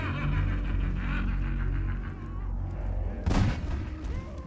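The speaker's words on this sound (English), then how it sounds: "As you can see, he's still shooting." Gunfire in Half-Life 2, a dull boom-like shot standing out once near the end over a continuous low game background, with no talk.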